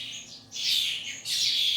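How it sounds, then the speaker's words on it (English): Fledgling songbirds such as dunnocks, starlings, blackbirds and finches chirp in a wildlife rescue nestling room, two bursts of high, rapid tweeting close by with a short pause between. "There are 70 fledglings in here, ranging from dunnocks to starlings, blackbirds to various finches."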